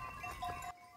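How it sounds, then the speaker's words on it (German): Goats bleat briefly outdoors as they are led to a field near a Spanish olive plantation, one short wavering call fading quickly into quiet. "Am späten Nachmittag führt Diegos Bruder Pepe seine Ziegen aufs Feld"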